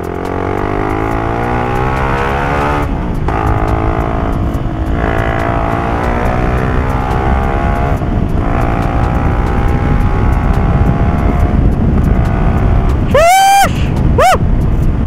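Motorcycle engine fitted with a new muffler while riding, a loud steady drone with rising and falling pitch sweeps as the rider accelerates, continuous throughout, with a brief high whine near the end.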